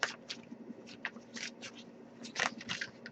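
Tarot cards being shuffled by hand, with soft, quick papery riffles and flicks coming in short irregular bursts, close and quiet.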